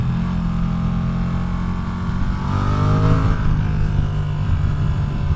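Ducati Streetfighter V2 motorcycle engine running steadily while riding, with the clutch pulled in so the revs settle into a continuous low hum and wind rush, rising briefly midway, no talking.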